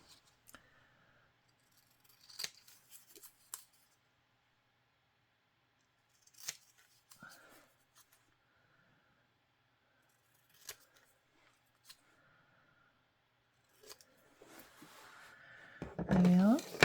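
Scissors cutting background paper to shape for a weekly collage piece: a few quiet, sparse snips spread through a hushed room, ending in a louder burst of handling noise.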